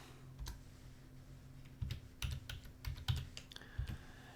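Close keyboard typing on a computer: a handful of soft separate key clicks at an uneven pace over a quiet room hum.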